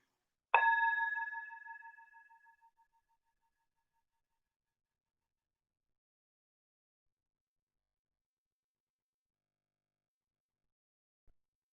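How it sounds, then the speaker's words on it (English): A single meditation bell struck once, its bright ringing tone decaying slowly into silence over a few seconds, then stillness. "Notice where this bell takes you."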